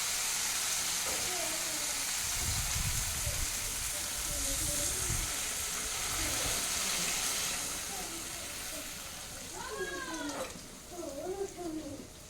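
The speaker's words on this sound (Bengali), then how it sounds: "এখন আমি জল দিয়ে দেবো।" Water is poured into a frying spice paste for a Bengali pabda fish curry, giving a continuous loud sizzle and bubbling, with someone talking over it throughout.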